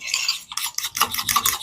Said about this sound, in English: I'm going to go ahead and get this whipped a little bit easier with my fork